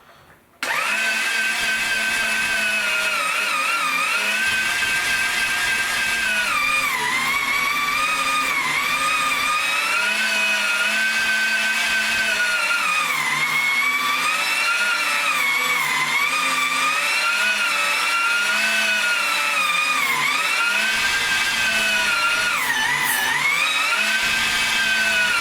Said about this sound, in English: and now I'm going to start grinding.